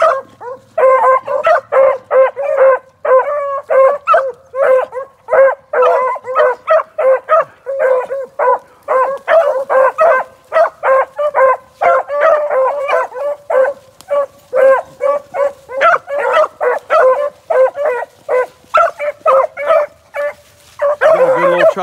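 Little dogs bark nearly nonstop at close range, a loud, rapid string of high yips and barks with short gaps, ending in a brief pause.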